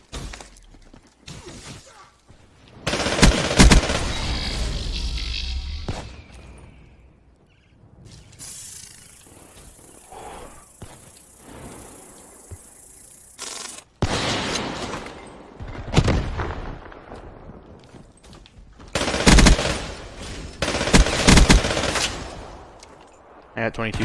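Bursts of gunfire from the Black Ops 3 video game, loud clusters of rapid shots separated by quieter gaps, with glassy impacts and occasional game sounds, no talk over the shots.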